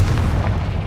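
A Confringo blasting spell detonates in the video game Hogwarts Legacy, a single loud, deep boom with a rumbling low-end body that fills the whole moment and slowly tapers off.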